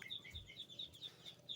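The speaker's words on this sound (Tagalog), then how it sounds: "Yan na kayo kung may naririnig kayong pato." Poultry, likely ducks, give repeated quick calls in a steady rhythm, fairly faint and without speech.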